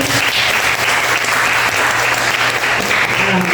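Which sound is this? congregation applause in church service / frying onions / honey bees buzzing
congregation applause in church service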